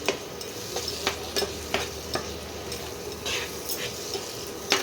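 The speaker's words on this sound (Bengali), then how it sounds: "ধনেপাতা দিয়েও একটু কষিয়ে নেবো" Bhetki fish and cauliflower stir-fried with chopped coriander, with a soft continuous sizzle broken by frequent sharp spatula scrapes and taps against the pan, close and moderately loud, no talking.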